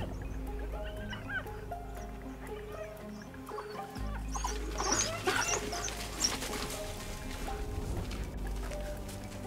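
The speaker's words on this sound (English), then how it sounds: "Two healthy male wild dogs munching away." African wild dogs feeding on a kill while a hyena moves in, with high twittering, chirping calls over a steady low rumble and some rustling, fairly close and continuous.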